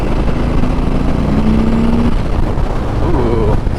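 A 2021 Harley-Davidson Softail Standard engine rumbles loudly under heavy wind noise while downshifting into a corner, its pitch climbing as the revs rise near the end.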